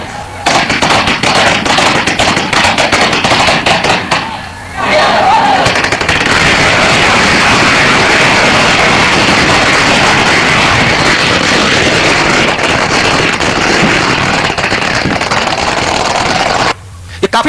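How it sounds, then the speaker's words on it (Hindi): Guns and machine guns fired over and over during a celebration on 31 December: dense, loud, crackling volleys of rapid shots that run almost without a break, with a brief lull partway through. "वहां गन लेकर कई घंटों तक कारतूसों को और फायर करते रहे, उड़ाते रहे।"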